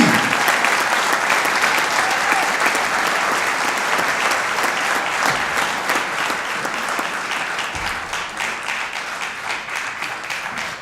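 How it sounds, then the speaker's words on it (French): Steady applause from an audience at a martial arts event honouring a Black Belt Hall of Fame guest, dense and sustained for about eleven seconds with no pauses. "On l'applaudit."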